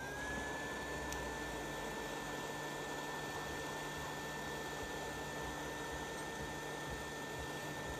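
A heat gun blows steadily while warming the screen of an iPhone 14 Plus during a repair, a constant, fairly quiet airy roar with a thin high whine that holds level throughout.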